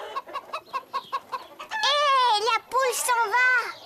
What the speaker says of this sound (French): Hé, la poule s'en va!